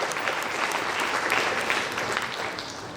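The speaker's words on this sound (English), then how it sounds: "a very big hand of applause to all of you here" Sustained applause from an audience at a school gathering, a dense, steady wash of many hands clapping together for the full few seconds, fairly loud and close, with no talk over it.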